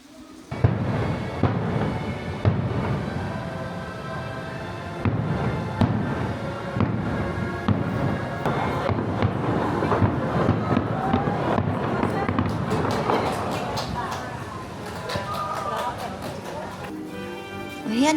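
Fireworks burst over Tokyo Disney Resort, seen from a hotel terrace near a rose garden entrance: a long run of distant booming thuds and crackles in irregular volleys, with crowd murmur and voices underneath.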